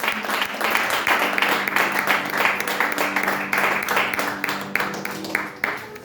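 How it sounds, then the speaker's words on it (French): A church congregation applauding, loud dense clapping that keeps up steadily from start to finish with a faint held tone beneath and a few louder individual claps near the end. "Des bonnes acclamations."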